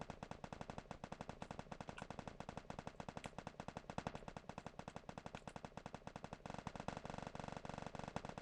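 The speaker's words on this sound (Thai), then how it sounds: "โอ้ทำไมปืนยิงรัวอย่างนั้นน่ะ" Rapid automatic gunfire in the mobile battle royale game Free Fire, long unbroken bursts of shots crackling steadily close up, dense and loud throughout with no talking.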